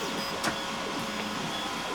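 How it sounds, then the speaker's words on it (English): A resin 3D printer runs steadily with a constant mechanical whir and faint tonal hum, a brief louder swish near the middle, no voices present. "this printer is apparently done, and we're about to turn it on and see what there is to see."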